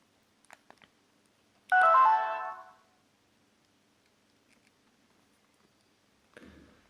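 A Sony Ericsson K310i mobile phone startup chime plays once, a bright rising tone lasting about a second, with faint clicks before it and a soft rustle afterward.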